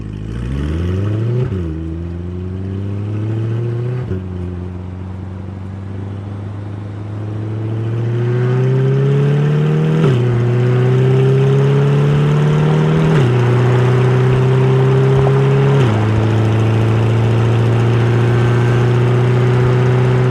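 Corvette C8 engine pulling hard while accelerating to 60 mph, its rising drone stepping down at each upshift, four or five gear changes in a steady loud climb with no talking.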